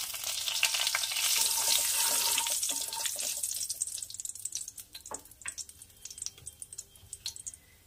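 Whole spices, cinnamon, green cardamom and a bay leaf, drop into hot oil and sizzle with a steady hiss that is strongest at first and then thins to soft crackles and pops, heard close with no talk.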